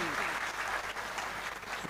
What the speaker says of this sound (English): let's have a huge round of applause for all the honorable dignitaries on the stage